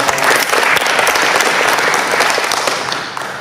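Dense, loud applause from a club meeting audience fills the room continuously, many hands clapping together close by and fading slightly at the end.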